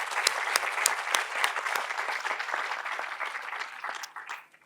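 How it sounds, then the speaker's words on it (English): An audience of panel attendees breaks into dense, sustained clapping at a conference plenary session, loud and continuous before thinning out and fading over the final second. "a big round of applause for this amazing panel"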